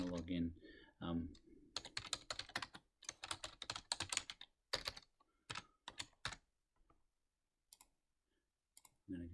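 Password being typed on a computer keyboard while logging in to an Office 365 account: a quick run of close key clicks in bursts, then slower scattered taps, with a voice speaking briefly at the start.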